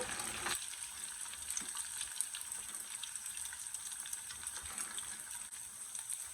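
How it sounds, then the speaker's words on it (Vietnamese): Vegetarian roast pork pieces fry in hot oil in a pan, giving a continuous close crackling sizzle with small pops throughout and no talking. "Mình cứ tiếp tục mình chiên á, mình cứ trở qua trở lại cho khi nào có hai cái miếng thịt này nó vàng là được nha."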